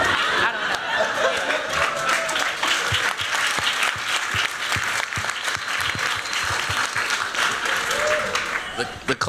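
An audience at the Black in Design 2019 conference applauds after a question to a panel, a dense, steady wash of clapping from a large crowd with scattered chuckles and laughter mixed in.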